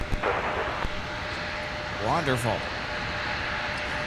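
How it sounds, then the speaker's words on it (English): An Embraer E175 jet approaching to land at MSP airport in winter, a steady distant engine roar that swells slightly, with a brief spoken word over it. "we got an Embraer E175 coming our way"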